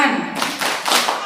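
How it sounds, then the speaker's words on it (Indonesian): Kindergarten children clapping their hands inside the Masjid Assalam mosque: a short burst of a few loud group claps in quick succession, with voices murmuring beneath. "Kalau kawan hebat tepuk tangan"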